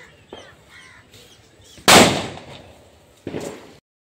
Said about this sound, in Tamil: பட்டாசு வெடிக்க ஸ்டார்ட் பண்ணலாம்.